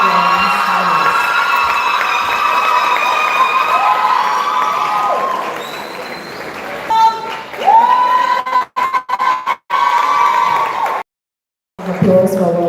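Audience at a Laventille secondary school annual awards and anniversary ceremony cheers and applauds loudly for several seconds, with whoops and shouting mixed in, then breaks into short bursts before a pause and a final swell.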